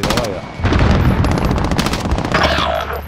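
Dense automatic gunfire in the video game Modern Warfare, loud and continuous rapid bursts filling the whole moment, with a voice talking briefly at the start.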